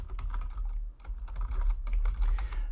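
Fast typing on a computer keyboard while writing code, a dense run of close, crisp key clicks with a brief pause midway, over a low background rumble and no voices.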